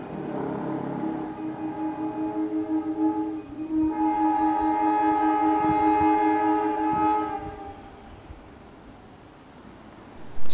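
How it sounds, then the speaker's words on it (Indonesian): A CC203 locomotive hauling the Kuto Jaya Selatan train sounds its horn near the Cirahong bridge, one long sustained blast that swells, breaks briefly, then continues loudly before fading into rumble. "Semboyan 35 dari kereta api Kuto Jaya Selatan sudah terdengar"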